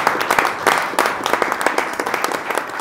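An audience applauds a pitch contestant on a televised startup show, a dense, steady round of clapping with sharp individual claps standing out throughout.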